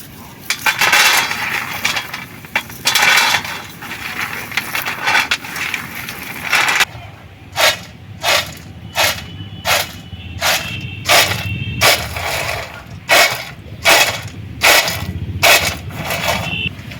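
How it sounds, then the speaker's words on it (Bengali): Dry crackling and clicking as roasted peanut shells are cracked and rubbed apart, dense at first, then in short regular bursts with pauses between. "এবারে এই ভাজা বাদামের খোলাগুলো ছাড়িয়ে নেব"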